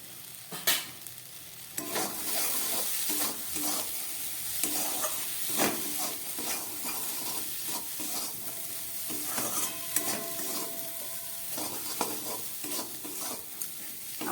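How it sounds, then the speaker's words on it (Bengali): Dal and mixed vegetables frying in a pan with salt and turmeric, a close sizzle broken by repeated scraping stir strokes at an irregular rhythm, with no voices. "আমার ডাল আর সবজিটা ভাজা হয়ে গেছে"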